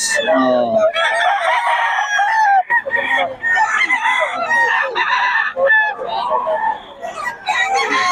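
Roosters in Bocaue crow repeatedly at close range, with several overlapping cock-a-doodle-doo calls and clucks in quick succession while people talk nearby.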